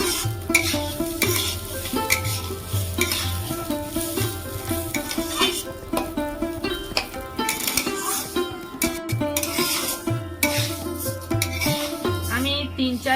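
Gobindobhog rice grains fry in ghee for Bengali payesh, with a steady sizzle and repeated scraping stirs over tonal background sound.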